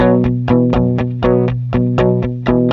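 Clean electric guitar through a Divided by 13 EDT 13/29 live touring amp plays about ten evenly spaced picked notes and chords, bright, ringing and close.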